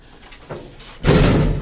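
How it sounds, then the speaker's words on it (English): A gated Elevator Company of America traction elevator door at a Chicago apartment building closes with a short slam after a quieter rattle, loud and close, with no talk over it. "Doesn't look like the door closed all the way."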